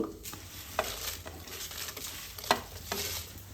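Mustard seeds, cumin and dried chillies sizzle in hot peanut oil for a tempering, giving a steady close frying hiss broken by a few sharp crackles and stirring scrapes, with no talk.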